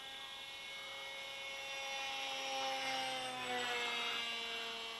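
A Talon 1718mm RC plane makes a throttled-back low pass, its electric motor whining as a thin harmonic tone that swells slightly and slides downward as it goes by, with no talk.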